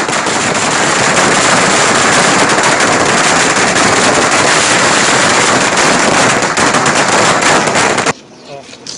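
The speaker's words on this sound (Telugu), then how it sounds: "స్వీట్లు పంచుకుంటూ టపాసులు కాలుస్తున్న దృశ్యాలు" Firecrackers burst during a street celebration outside a residence, forming a loud, dense, continuous crackling barrage like rapid gunfire that runs nearly unbroken for about eight seconds and then cuts off abruptly.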